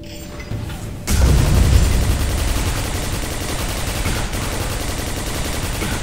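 Gunfire in the PC shooter Quake 4 erupts suddenly after a brief lull, a dense, loud, continuous barrage of rapid shots and booms that holds without letting up.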